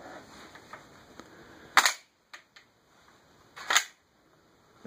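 A CETME .308 battle rifle firing CBC 7.62x51 ball ammunition: two sharp, loud single shots a couple of seconds apart, with faint clicks and quiet outdoor background between them.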